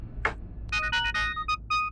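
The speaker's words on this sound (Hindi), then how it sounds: "रॉबी अंकल, डॉक्टर मेंडोजा का फोन" A phone rings for an incoming call in a Hindi crime drama film: a short swept chirp, then a run of bright electronic tone bursts in a rhythmic pattern, clear and close with no speech.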